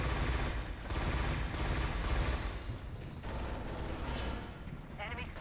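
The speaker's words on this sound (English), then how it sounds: "What are you shooting at? Oh. Am I getting shot?" Automatic gunfire in the Scourge: Outbreak video game, dense and continuous bursts under a player's speech.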